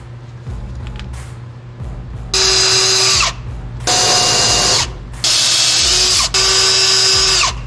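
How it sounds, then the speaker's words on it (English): Power drill whirring in three loud, close bursts of about a second each, separated by short pauses over a low background hum, while working on a Ford F350 Super Duty diesel fuel system. "I gotta get a better drill."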